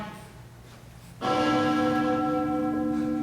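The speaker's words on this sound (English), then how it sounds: "It is the bell that summons you to either heaven or hell" A large bell strikes suddenly after a quiet stretch, its deep, rich tone ringing on and sustaining with shimmering overtones.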